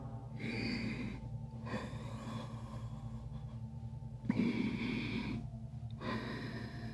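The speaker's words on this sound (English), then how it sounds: "Keep breathing in and out." Slow, deep breaths in and out during a group yoga breathing exercise, long airy rushes alternating with quiet pauses over a low steady hum in the room.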